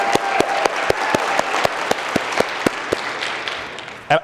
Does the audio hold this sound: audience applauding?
yes